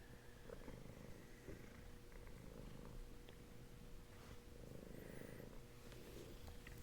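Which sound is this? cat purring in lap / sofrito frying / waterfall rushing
cat purring in lap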